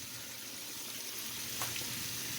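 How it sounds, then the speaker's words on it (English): Calamari deep frying in oil, St. Lucia style, gives a steady, dense sizzle and crackle throughout, close and even, with a small burst of spatter near the end. "It's frying. Nice and crispy coming soon."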